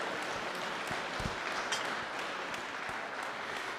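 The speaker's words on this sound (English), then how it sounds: "let's give a round of applause to those businesses who keep us rolling here." Crowd applause at a curling final in an arena, honouring local businesses; steady, moderately loud clapping sustained throughout with no distinct talk.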